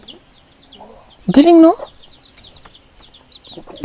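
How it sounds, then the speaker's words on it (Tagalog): Chickens cluck in short, scattered calls on a farm in the hills, near and fairly quiet, with a person briefly speaking over them. "Pakainan ng manok."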